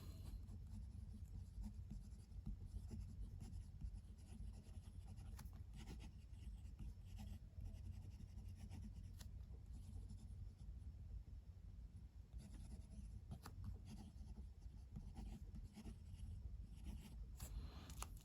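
A Laban Solar fountain pen nib writing on paper, with steady soft scratching and gliding strokes in an irregular rhythm, very close and quiet.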